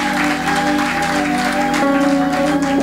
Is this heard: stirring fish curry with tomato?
no